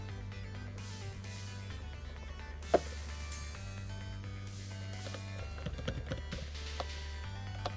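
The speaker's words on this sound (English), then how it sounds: "Bluetooth keyboard" Soft, quiet key taps on a Bluetooth keyboard used with a Samsung Galaxy Tab S7+ click irregularly over a low background hum, with one sharper tap standing out midway.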